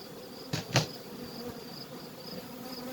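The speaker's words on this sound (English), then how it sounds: "Now look at this. This is a new colony." Honey bees humming steadily at a new hive colony, a low continuous drone with two brief louder bursts near the start, faint and without voices.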